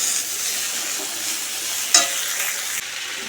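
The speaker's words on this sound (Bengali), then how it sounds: "আর এদিকে ফুলকপি তো ভাজা হচ্ছে" Cauliflower sizzles in hot oil with a steady crackling hiss, interrupted once by a sharp clack of stirring midway.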